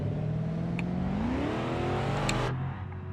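An unbadged Impala-style Chevy with a loud exhaust in the BeamNG driving game revs steadily, its deep engine note climbing in pitch and then cutting off abruptly near the end, close and loud with no talk.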